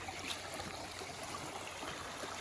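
Water flowing steadily in a creek running a little high beside a gazebo on an outdoor property, a continuous close rushing and burbling with no talk.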